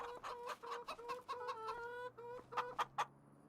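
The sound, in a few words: chickens clucking in Farming Simulator 25 video game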